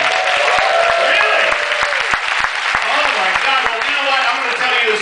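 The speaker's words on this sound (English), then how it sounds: "How many by applause?" A crowd on a gay cruise ship applauds and cheers in a loud, dense wash of clapping, with voices and whoops mixed through it and people talking over the noise.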